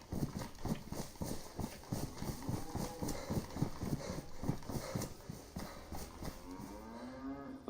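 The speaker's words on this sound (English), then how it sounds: "I hear a cow." Cow in the DayZ video game on the Chernarus map: a low, drawn-out moo rises near the end over a steady rhythmic clip-clop of footsteps, with a faint, distant game ambience throughout.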